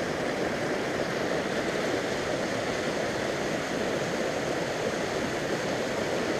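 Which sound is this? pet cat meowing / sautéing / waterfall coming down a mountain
waterfall coming down a mountain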